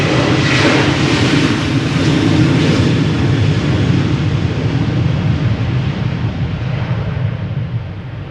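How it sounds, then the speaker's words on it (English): A KLM Boeing 737-800 departs Amsterdam Schiphol for Edinburgh, its engines a loud, sustained broadband roar that eases slightly toward the end, with no talking. "This is KLM flight 1281 going to Edinburgh. It is a"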